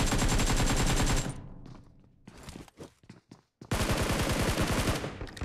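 Automatic gunfire in the mobile battle royale game BGMI rattles in rapid, loud bursts, then breaks into a few scattered footsteps and single shots before another long, sustained burst.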